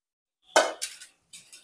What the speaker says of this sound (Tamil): 3 கிலோ சிக்கன் போட்டதும் நல்லா மிக்ஸ் பண்ணிக்குவோம்.